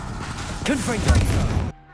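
A Confringo spell blast in a Hogwarts video game: a loud burst of crackling, explosive noise close up, overlapping a shouted voice and cutting off abruptly at the end.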